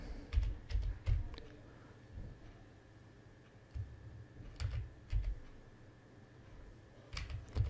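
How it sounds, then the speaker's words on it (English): Typing on a computer keyboard while entering a value name in a Windows registry setting: clustered bursts of close, crisp key clicks separated by short pauses, with no voice. "So you need to type this name."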